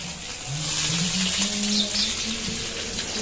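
Green chili and onion sizzle steadily in hot oil for a tempering, a loud, continuous frying hiss close by with no talking.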